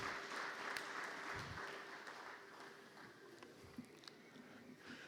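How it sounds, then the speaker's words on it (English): An audience at an agriculture conference session applauds a livestock minister's introduction, steady moderate clapping spread through a hall, tapering slightly toward the end. "A round of applause, please."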